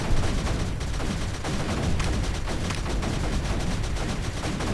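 Mortars firing in the strategy game Creeper World 3, a dense, continuous barrage of overlapping booms and cracks with no pauses, loud and steady throughout.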